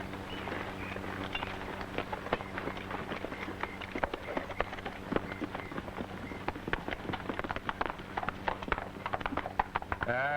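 Several horses run together on a 1948 Western movie soundtrack, a dense, steady patter of hoofbeats under music that persists throughout.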